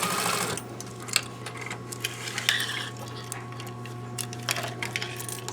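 A sewing machine stitches a seam in costume fabric for an invisible zipper, giving a steady low motor hum with light clicks and small clatters, fairly quiet and close, with no talking.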